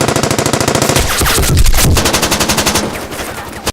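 Rapid automatic gunfire from the final shootout of the action film Firestorm, dense bursts of machine-gun fire ringing out loud and continuous with heavy impacts mid-clip, no talk.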